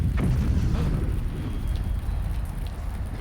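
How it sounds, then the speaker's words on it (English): A thunderous explosion from a point-and-click adventure video game, a deep rumbling boom with a rolling low roar that sustains and fades slowly. "there's a thunderous explosion"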